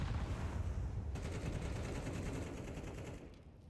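Gunfire in a Counter-Strike esports match, with shots fired through walls, rattling as a dense, continuous burst of rapid shots that carries on for several seconds before easing off at the end.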